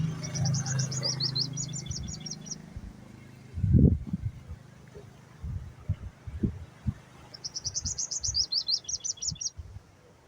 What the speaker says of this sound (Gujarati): ને ઓલી ચકલી જો વાં બેહીને અવાજ કરે છે